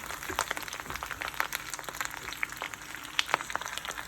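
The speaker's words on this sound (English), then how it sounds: "That's what you hear sizzling." Light, steady crackling and popping of cherry tomatoes frying in olive oil in a pan, scattered sharp ticks over a soft hiss, fairly quiet and close.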